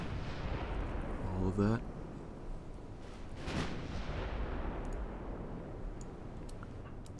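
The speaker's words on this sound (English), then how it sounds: "the ships are actually firing across the deck right there" Naval gunfire from España-class battleships in Ultimate Admiral: Dreadnoughts, with a loud low boom near the start, a second heavy blast a couple of seconds later and steady battle rumble beneath someone talking throughout.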